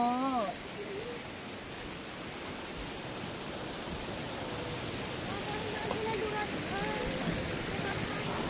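Mailung waterfall roars steadily as a dense, constant wash of falling water, loud and close, while a voice talks briefly over it near the start.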